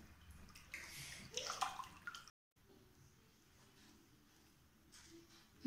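Quiet splashing and trickling water close by as feet are washed during a home pedicure, brief sloshes and drips, then a short gap followed by soft running water.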